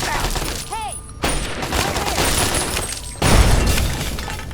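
Automated turrets in the Fallout game open fire in rapid, dense bursts of crackling shots, mixed with shattering impacts and electronic tones, with a louder burst near the end.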